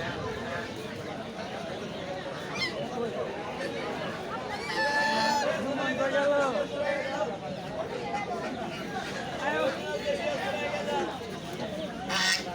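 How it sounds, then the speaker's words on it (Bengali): Busy poultry market din in Fatullah, Narayanganj, with ducklings and fowl calling amid crowd chatter and voices talking nearby. "এখানে রয়েছে ছোট হাঁসও আপনাদের দেখাচ্ছি"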